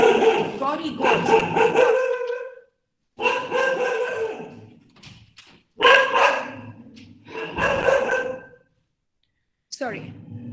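A dog barks insistently close by in several loud clustered bursts separated by short pauses, with yipping, strained tones throughout.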